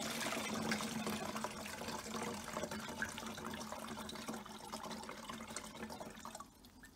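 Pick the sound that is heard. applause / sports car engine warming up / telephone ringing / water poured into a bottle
water poured into a bottle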